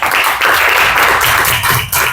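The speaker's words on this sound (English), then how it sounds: "Clapping for them, please." An audience claps together in a room, a dense, loud patter of many hands that continues steadily throughout with a brief dip near the end.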